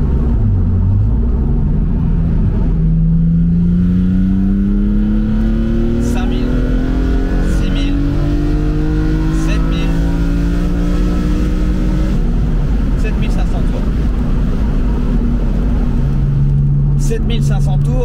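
Naturally aspirated BMW Z4 M engine, prepared with its M3 E46 CSL-style soul, revving up through a long climbing pull with rising harmonic whine, then dropping back to a lower drone, loud and close with someone talking over it.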